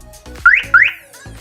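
Two short rising chirps from a car alarm sound in quick succession, loud and close, with faint clicks around them.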